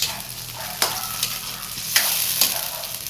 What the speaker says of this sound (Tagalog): Yan, tapos halo-haloin lang natin. Hanggat nagisa yung sardinas.